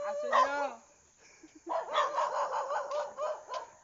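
A dog barks and yelps nearby in a quick run of excited barks, following a brief whine-like cry at the start.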